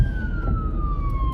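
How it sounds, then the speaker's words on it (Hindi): An ambulance siren in Ireland wails close to passing traffic, its single steady tone gliding slowly downward in pitch over a low road rumble. "ये पीछे एम्बुलेंस आ रही है."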